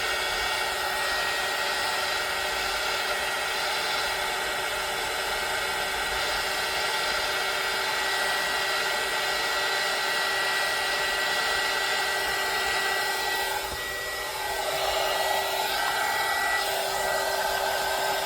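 A hair dryer roars steadily and close for the whole stretch while drying paint on an art board, its even airy whine briefly shifting near the end as it is moved.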